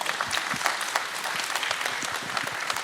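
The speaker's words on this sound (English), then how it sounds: "Shall we honor them with a big round of applause?" Audience applause for a panel at an electric vehicle battery and charging conference, a dense, even roll of many hands clapping at a distance, with no talk over it.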